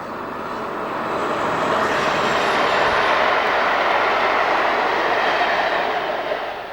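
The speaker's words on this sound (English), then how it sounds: "this is the 1403 Low Fell to Plymouth Postal" The 1403 Low Fell to Plymouth postal train, top and tailed with locomotives, rumbles past loudly on the East Coast Main Line, its roar building and holding steady before easing slightly.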